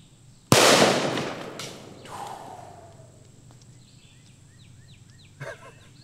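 An M2 machine gun round cooks off in a sudden loud bang at close range, followed by a decaying rumble, a fainter second burst and a short sharp crack near the end, with birds chirping faintly outdoors.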